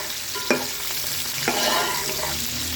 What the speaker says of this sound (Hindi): गरम मसाले के बाद हमने प्याज डाल दी।